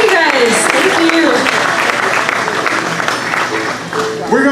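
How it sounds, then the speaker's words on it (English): An audience at a bluegrass festival applauds steadily in a dense, sustained wash of clapping, with voices and a cheer or two rising over it near the close. "If you would give a big round of applause"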